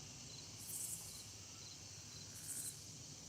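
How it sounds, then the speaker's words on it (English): Cicada calling at a family campground, a faint rasping buzz that rises twice in short bursts, distant and soft over quiet outdoor ambience. "Yeah, cicada."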